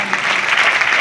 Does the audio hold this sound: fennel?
no